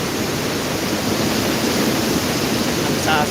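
Strong typhoon wind during Typhoon Uwan in Camarines Sur, Bicol, roaring as a loud, continuous broadband rush without pause, with trees tossing in the storm.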